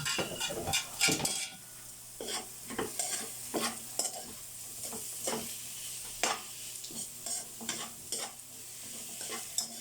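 Carrots and cabbage are stir-fried for pancit, with a steady sizzle under repeated scraping strokes of a utensil against the pan and occasional clinks, close and fairly loud with no talking.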